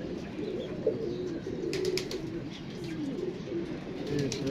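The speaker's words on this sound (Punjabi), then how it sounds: "ਬਹੁਤ ਜ਼ਿਆਦਾ ਕਬੂਤਰ ਹੈ" Many pigeons coo together in a soft, continuous low murmur heard from a moderate distance, with faint rustling and occasional higher sounds over a steady background.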